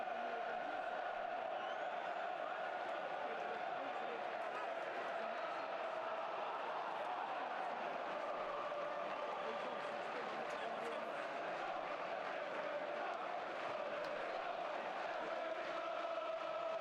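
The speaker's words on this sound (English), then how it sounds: "The Sunderland fans you can hear down at the Den." Sunderland fans in the away crowd at the Den make a distant, steady roar of chanting and crowd noise throughout a Millwall match.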